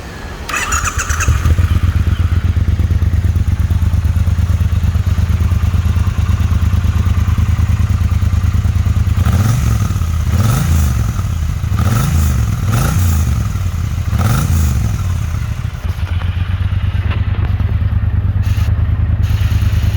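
A 2017 Triumph Bonneville T120 engine runs steadily and close by, with a deep, continuous idle rumble and a series of throttle blips near the middle before it settles back; no one speaks.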